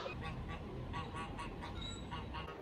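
Geese honking in a public spot in Brittany, France, a busy flock calling repeatedly in short bursts over steady outdoor noise, with someone speaking briefly.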